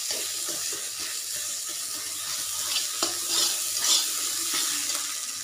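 Spices such as turmeric, garam masala and salt stirred into a pan, with a soft continuous sizzle and light scraping of a spoon, close and steady.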